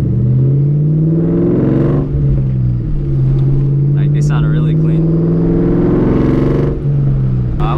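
Supercharged car engine with a Borla Stinger exhaust, a loud close rumble that rises and falls through several revs with a steady whine on top.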